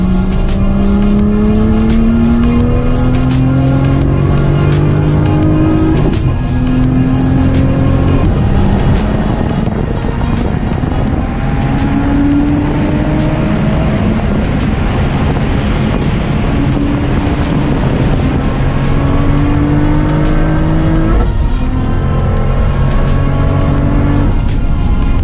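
A Toyota Supra lapping a race track, its engine loud and close, rising in pitch through each gear with repeated upshifts and brief drops, continuous throughout with no talk.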